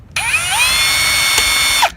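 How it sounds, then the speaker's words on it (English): A power drill bores through a quarter coin held in place over an existing hole, a steady high-pitched whine running close and loud for nearly two seconds before cutting off, with no talking. "You hold one in place and you drill through the existing hole"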